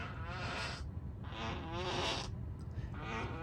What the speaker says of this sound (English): fart machine in the car